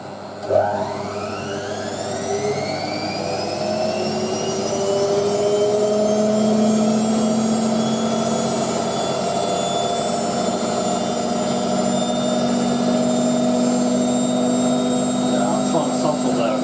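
A Hotpoint 9530 Electronic 1000 Plus washing machine on programme 5, loaded with a sofa throw, spins up toward 1000 RPM: a loud, steady motor whine climbs sharply in pitch at first, then holds a sustained high drone throughout.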